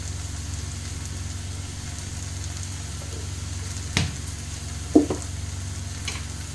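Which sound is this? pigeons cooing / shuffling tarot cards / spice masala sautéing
spice masala sautéing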